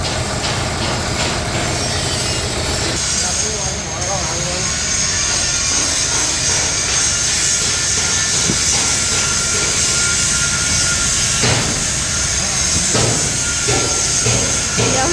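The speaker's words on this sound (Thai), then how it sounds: "เสียงเครื่องแบบนิ่มมากนะคะ" Mitsubishi Fuso FP6 truck engine idling close by: a smooth, steady, continuous rumble and hum that holds level throughout, with no speech.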